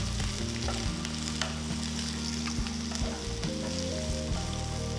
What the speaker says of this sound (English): Now add about 2 onions chopped, 6 cloves of garlic, a piece of ginger chopped and saute well.